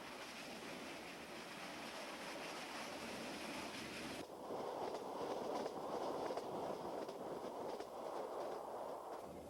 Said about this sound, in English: I'm on the Unification Express, an odd name for a train that now runs slower than when the French first built it 60 years ago.